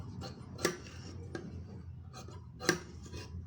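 Scissors snipping off extra canvas while tailoring a blouse, a few sharp, close metallic snips standing out from a quiet room background.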